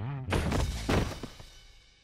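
A sofa knocked over in a cartoon hits the floor with a loud thudding crash and a clattering tumble, then fades, preceded by a brief sliding effect.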